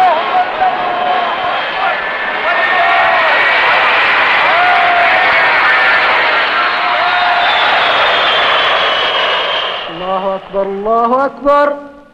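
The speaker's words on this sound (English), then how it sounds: "a plane circles the crowd, spraying disinfectant" A loud airplane engine drones overhead, rising and falling as it circles a crowd of pilgrims spraying disinfectant, with the crowd murmuring beneath and a few voices near the end.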